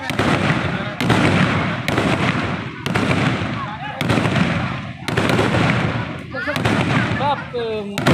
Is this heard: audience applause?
no